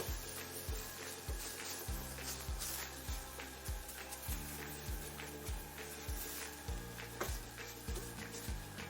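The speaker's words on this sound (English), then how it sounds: "I'm just trying to remove the things that are stuck at the bottom of the pan" Shakshouka tomatoes stuck to a pan bottom get scraped in a steady, repeating rhythm of short scrapes over a continuous low sizzle, fairly quiet and close.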